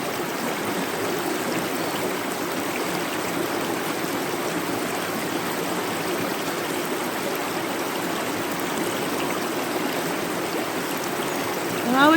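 A forest river flows in a constant, even rush and trickle of water that holds steady throughout without pause.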